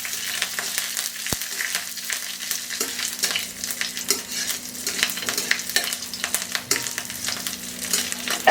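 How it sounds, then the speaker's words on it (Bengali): Dried red chilies, black cumin and green chilies temper in hot oil, a steady bright crackling sizzle with stirring scrapes throughout, close and with no talking. "2টা শুকনা মরিচ, 1 চা চামচ কালো জিরা, 2-3টা কাঁচা মরিচ, এগুলো একটু ফোড়ন দিব"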